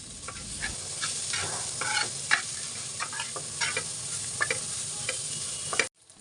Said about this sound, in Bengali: খোসাগুলো আমার প্রায় ভাজা হয়ে গেছে, এখন আমি কয়েকটা রসুন দিয়ে দিচ্ছি আর কিছু পেঁয়াজ কুচিও দিয়ে দিচ্ছি।